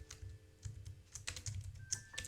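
Quick tapping on a computer keyboard comes in clusters of close, crisp clicks and clacks, quiet and uneven in rhythm, with no voice over it.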